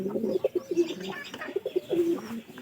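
Pigeons kept in a home loft coo in a steady series of soft, throaty, repeated calls, close by and alone with no talking.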